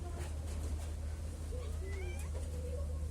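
A sleepy cat lets out a few soft, drawn-out meows over a constant low electrical hum, fairly quiet and close.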